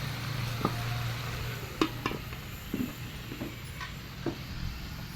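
Mutton gravy stirred in a pot, with a few light scrapes and knocks of the spoon over a steady low bubbling hum and a faint sizzle before the pot is covered.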